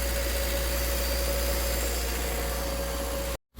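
An overheating car's engine idles steadily and close by, with a constant low hum and a faint whine over the top, running alone until it cuts to silence at the very end.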